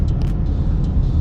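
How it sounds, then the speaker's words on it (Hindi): A Kia Stonic car passing by on the road, a brief low engine and tyre rumble heard close and fairly loud, with no speech over it. "देख स्टॉनिक जा रही है"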